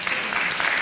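Short burst of audience applause filling a talk hall, dense and steady clapping from many hands with no pauses.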